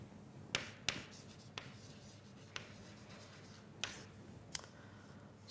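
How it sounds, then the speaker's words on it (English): Chalk or a marker writes on a board during a dynamical systems mathematics lecture: faint, scattered ticks and short scratchy strokes over a quiet room, with no speech. "So let me write out"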